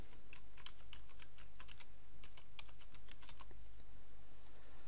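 Fingers tap out a domain name on a computer keyboard in quick, uneven bursts of close key clicks over a steady low hum, with no talking.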